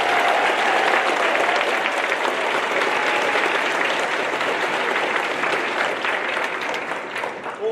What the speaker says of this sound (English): I just want one more gigantic round of applause for the people who organized this